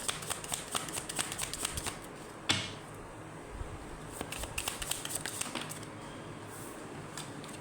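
Tarot cards are drawn and shuffled from a deck with quick soft flicks and riffling snaps, faint and close, with one sharper slap in the middle and no talk.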